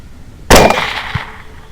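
A single sharp, loud gunshot during a hog hunt, followed by a decaying echo and a faint, brief thump of the bullet striking the hog a moment later.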